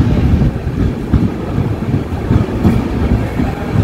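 The Sikkim Mahananda Express pulls into New Mal Junction in Jalpaiguri district, a loud, steady low rumble of rolling wheels with wind buffeting the microphone throughout.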